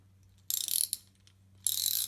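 A screw on a Lee Enfield rifle magazine is turned loose in two short bursts of ratcheting, clicking metal, close up over a low steady hum.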